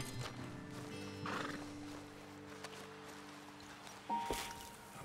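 Horses in the Red Dead Redemption 2 video game: a loud neigh and whinny, hooves clip-clopping, and a few other game sounds layered over a steady low ambient bed.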